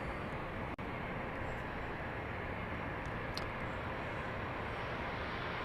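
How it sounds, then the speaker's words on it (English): A Bombardier Global 6000 business jet passes at Dallas Love Field as a faint, steady, distant roar, with one brief click partway through. "Here comes a Bombardier Global 6000."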